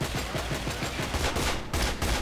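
Shotgun fire in the video game Escape from Butcher Bay, heard as a dense, loud run of rapid blasts with no pause, close and continuous throughout.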